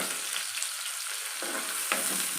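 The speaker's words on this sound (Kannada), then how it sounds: "ಈರುಳ್ಳಿ ಹಾಕೋಣ ಇದಕ್ಕೆ ಒಂದು ಸ್ವಲ್ಪ ಲೈಟಾಗಿ ಫ್ರೈ ಆಗಲಿ ಇದು" Onions frying lightly in hot oil, a steady close sizzle with soft crackle and a couple of brief stirring scrapes, no voices.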